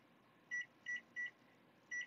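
Four short electronic beeps from a kitchen timer as it is set, evenly spaced and fairly quiet, alone against faint room hum in a home kitchen while cheese crackers bake.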